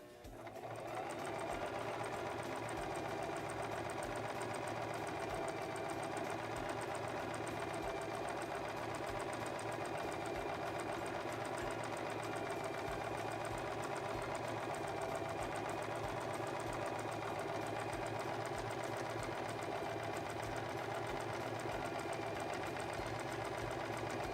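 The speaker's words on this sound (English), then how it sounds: "we're going to lower our presser foot and use our foot control to go" A Singer Promise 1408 sewing machine stitching fabric, its motor running in a steady, continuous mechanical whir with a fast needle rattle, unbroken and alone from start to finish.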